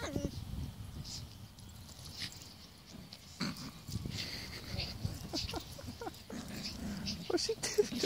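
Shih tzu dogs play indoors with soft whimpers, snuffles and scrabbling, faint and intermittent, while people talk nearby.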